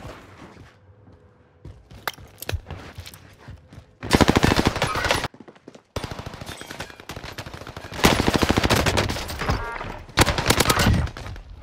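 Automatic gunfire from the video game Warzone Pacific, loud rapid machine-gun bursts that are near and sustained, broken by short pauses and preceded by scattered quieter single shots.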